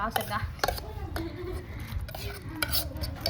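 A spoon stirs a freshly tempered potato mixture in a pot in a home kitchen, giving soft repeated scraping and clinking against the vessel, with faint sizzling and background voices.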